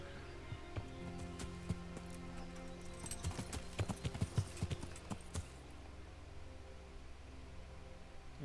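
Horse hooves clip-clop at a walking pace while riding in the Kingdom Come: Deliverance video game, steady rhythmic thuds that grow busier mid-way over a quiet ambient background.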